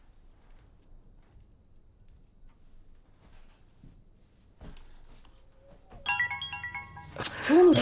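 At night, after several seconds of near silence with faint ticks, a phone ringtone suddenly plays loud and close, a bright repeating melody.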